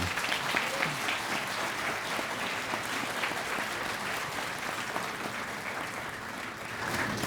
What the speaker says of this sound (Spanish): Por favor, les pido un fuerte aplauso a la doctora Londoño.